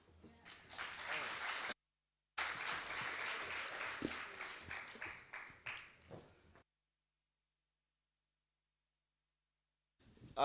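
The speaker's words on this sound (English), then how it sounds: "Let's give Ubaba Pengu a big round of applause." Audience applause at a youth contractors' signing ceremony, two bursts of clapping with a short gap between them, fading out toward a long silence.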